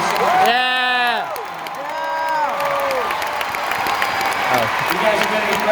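A live concert crowd applauding and cheering loudly, with whoops and shouts over dense clapping. Voices ring out over the din at the start, and the noise stays loud and close throughout.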